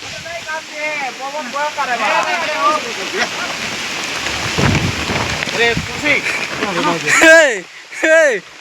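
Steady rain drums on a tarpaulin shelter in a village during a monsoon outdoor cooking feast, a constant hiss running throughout beneath frequent close talking and shouting voices.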